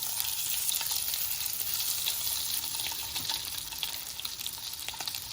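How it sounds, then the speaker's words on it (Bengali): Eggs frying in hot oil, a continuous close crackling sizzle with scattered pops and faint stirring scrapes, no voices. "ডিমগুলো ভালোভাবে ভেজে নিতে হবে"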